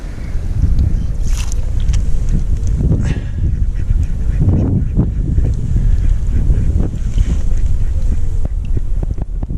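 Wind buffets a microphone outdoors at Lindholme Lakes fishing venue on a freezing day, a loud steady rumble lasting throughout, with faint water and bird-like sounds in the background.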